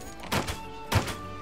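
Two heavy thunks from a bow power shot in Monster Hunter Wilds, about half a second apart, each a punchy impact over a faint musical game background.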